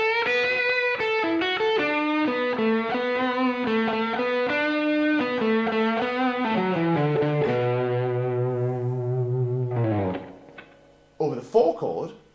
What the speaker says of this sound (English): So our one chord minor pentatonic might sound like this.